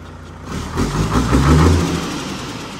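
An Isuzu 6WF1 truck engine runs on test, a close, fairly loud mid-pitched idle that rises briefly as if lightly revved, then eases back.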